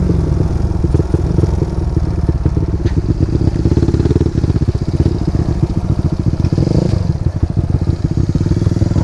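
A Racingboy motorcycle engine with an aftermarket exhaust roars loudly and continuously close by, with rapid throttle blips and a raspy, clattering exhaust throughout.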